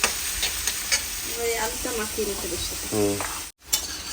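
Ajwain and jaljira spices lightly frying in a pan give a continuous close hiss and crackle, with brief tonal squeaks and scrapes over it and a sudden momentary dropout near the end.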